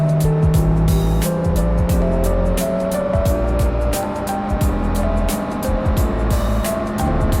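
Exhaust from a Honda CB1000R Black Edition motorcycle sounds close and loud on a seaside road. The engine drones steadily with rhythmic pulsing and wind rushing past, and no one talks.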